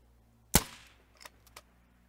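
A single sharp air rifle shot in the video game The Hunter: Call of the Wild cracks out close and loud, followed by a short decaying tail and a few faint clicks afterward.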